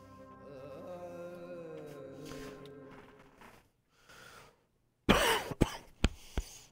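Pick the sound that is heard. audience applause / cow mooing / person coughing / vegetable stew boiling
person coughing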